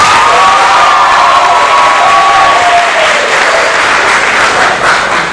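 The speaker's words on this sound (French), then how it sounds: "Un peu d'applaudissements, s'il vous plaît." Audience at a school debate applauding and cheering loudly, a continuous dense roar of clapping with whoops and shouts on top, full and steady throughout.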